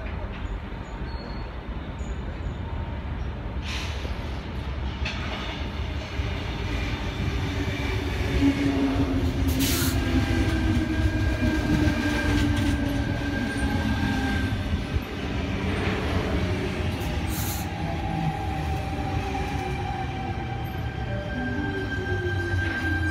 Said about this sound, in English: We have a Tangara arriving onto platform number 4 for a Cronulla service.